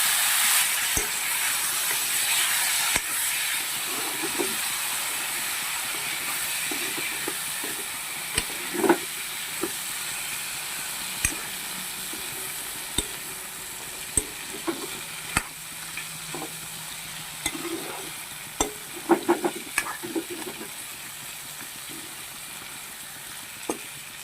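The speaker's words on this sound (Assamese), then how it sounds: "মই এয়া ভাজি লোৱা পিঁয়াজ সোপাতে মই এই কঁঠাল গুটিকেইটা দি দিছোঁ।" Jackfruit seeds fry with onions already browned in a pan on a gas stove, giving a soft, steady sizzle and hiss broken by light clinks and scrapes of stirring.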